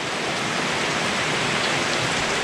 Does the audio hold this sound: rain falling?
yes